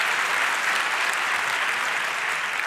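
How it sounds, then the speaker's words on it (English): Dense, steady applause from a large audience at a hacker conference talk, filling the room evenly from start to finish with no voices on top. "give her a huge round of applause"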